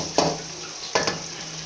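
Eggs fry in a pan for egg chilli, a steady moderate sizzle broken by two or three short scraping stirs of a spatula against the pan, close and without talk.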